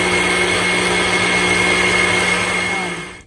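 A blender liquefies boiled tomatoes with oregano, salt and water, a loud steady whirring motor that holds constant before winding down and stopping at the end.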